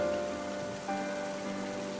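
Steady rain falls in Final Fantasy XIII, a constant close hiss of drops on a surface with a soft swell partway through, alone without talk.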